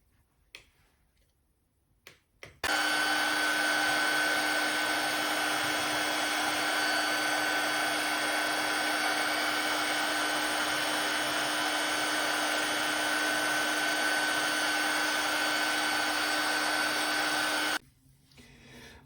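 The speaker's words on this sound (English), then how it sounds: "we'll just put some heat in a heat gun and fix it over there." A heat gun blows steadily to shrink heat-shrink tubing over the VTX on a 3.5-inch freestyle drone build, a loud constant whooshing hiss starting abruptly after a quiet moment and holding for about fifteen seconds before cutting off.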